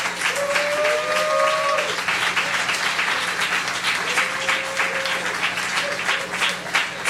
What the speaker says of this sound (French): je vous invite d'abord à donner une belle acclamation à toutes ces mamans